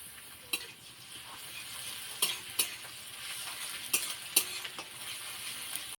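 Onion and garlic paste frying in oil in a pan for a rohu fish curry, a soft continuous sizzle broken by several sharp clicks and scrapes of a spoon stirring, fairly quiet and close.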